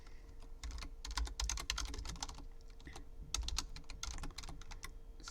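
Steady bursts of typing on a computer keyboard, clusters of quick key clicks with brief pauses, close and fairly quiet while a script is written in Courier New.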